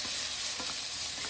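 Sliced green onions sizzling as they hit a hot frying pan: a steady, loud, close hiss of frying that runs unbroken throughout, with no voices.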